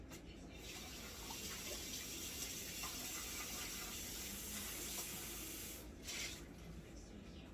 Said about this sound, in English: I gotta pour half a cup